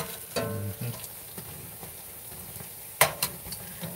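Churro bites sizzle and fry steadily in hot oil, a continuous crackling hiss with a few sharper pops and clicks toward the end, close and moderately loud with no talking.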